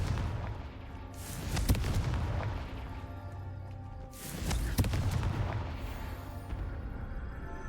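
Two heavy explosions from a Confringo blasting spell in Hogwarts Legacy boom out a few seconds apart. Each has a sharp onset and a long rumbling decay.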